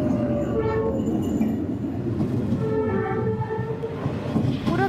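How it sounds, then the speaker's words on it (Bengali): A train rolls along Hanoi's Train Street between close-set buildings, its horn sounding in repeated loud blasts over a steady rumble and wheel clatter, with crowd noise around. "এই যে ট্রেনের হুইসেল শোনা যাচ্ছে, এখন মনে কাছাকাছি চলে এসছে।"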